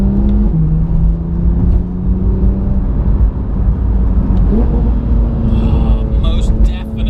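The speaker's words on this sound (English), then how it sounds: "Downshifts, even slow ones, definitely sounding better." Porsche 991 GT3 fitted with a Sharkwerks exhaust, heard from the cabin as steady loud engine drone with pitch steps as it downshifts, a continuous rumble filling the whole clip.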